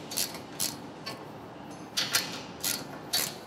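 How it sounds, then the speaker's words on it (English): A ratchet or wrench clicks in short, regular strokes as the front plug of a rack is tightened on the bed rail of a Polaris General 1000 utility vehicle, close and fairly quiet. "you go ahead and just start tightening this front plug"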